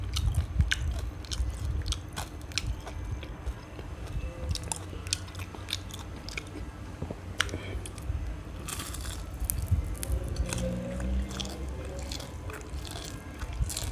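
Crispy fried pork being bitten and chewed up close, with repeated crunchy bites and wet mastication sounds running steadily throughout, with no talking.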